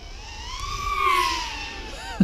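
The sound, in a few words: SwellPro Swift 2 drone flying fast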